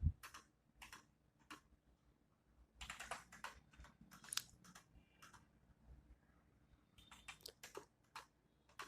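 Quantities are typed into pharmacy retail billing software on a computer keyboard: scattered, quiet key clicks in short irregular bursts with pauses, close and alone in a quiet room.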